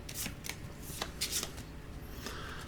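A deck of playing cards for the board game Stonespine Architects is shuffled nearby, a quick run of crisp riffling bursts with soft slaps between them, heard alone with no talk.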